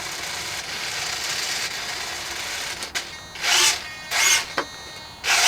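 Aileron servos on a P-39 Cobra II racer RC model plane, 980mm foam build, whir in short close bursts over a steady background hum.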